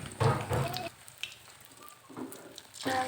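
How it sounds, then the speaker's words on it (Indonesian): Soft sizzling of an egg frying in hot oil in a pan, quiet and steady, with a few brief clatters and pauses between bursts. "Lalu goreng telur hingga matang."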